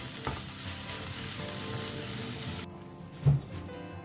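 Squid sizzling and frying in a hot pan, a steady loud hiss for most of the time that cuts off abruptly, followed by a quieter pan and a single clank near the end.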